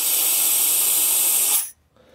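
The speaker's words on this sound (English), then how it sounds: "you just turn on that valve, turn it on, and the air comes out" Air hisses steadily and loudly out of a tractor tire valve in a farm field, a broad continuous rush that cuts off abruptly after about a second and a half, leaving near silence.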